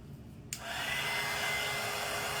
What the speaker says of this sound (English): I'm going to hit this with the dryer real quick